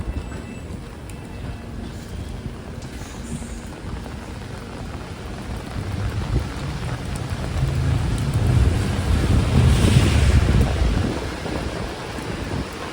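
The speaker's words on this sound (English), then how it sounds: "Oh, high wind now, guys, high wind." Heavy rain pours steadily through a London thunderstorm, with gusts of strong wind rising to a louder roar toward the end, a continuous broadband wash with no distinct voices.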